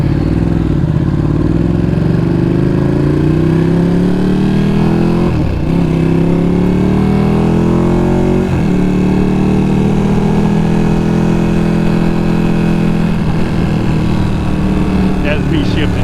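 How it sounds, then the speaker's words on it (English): A 2020 Ducati Panigale V2 motorcycle on a road ride, its engine droning loud and steady with rising revs broken by a few distinct manual gear shifts, with a rider talking over the engine. "that's me shifting, not a quick shift."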